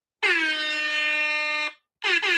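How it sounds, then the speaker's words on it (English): A loud air horn blares for about a second and a half, falls silent briefly, then gives two quick short blasts. "I don't have an amen, so I'm just going to do an air horn"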